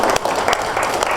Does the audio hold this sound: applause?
yes